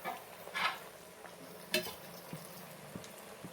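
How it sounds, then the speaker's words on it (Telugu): A spoon stirs goat head curry seasoned with chilli powder, kasuri methi, bay leaf and salt in a pan, giving a few soft scraping strokes over a quiet, faint background sizzle. "ఇప్పుడు ఇదంతా మంచిగా కలుపుకున్నాం కదా"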